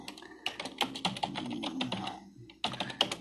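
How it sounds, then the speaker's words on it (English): Rapid, uneven typing on a computer keyboard, with close, crisp key clicks in bursts and a short pause before the tapping resumes. "I was just typing something"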